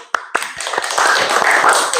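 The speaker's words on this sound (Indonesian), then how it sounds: "Tepuk tangan untuk kalian." A class of second-year primary students claps, opening with a few sharp separate claps that quickly swell into steady, dense applause close by.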